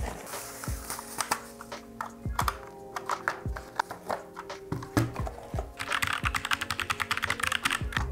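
Typing on a 60% mechanical RGB keyboard with linear red switches, close and clear: irregular clacks at first, then a fast, dense run of keystrokes toward the end.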